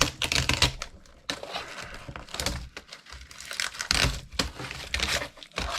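A laptop keyboard is pried up and peeled away during scrapping, giving loud, close crinkling, snapping and tearing bursts of plastic and Mylar in irregular clusters.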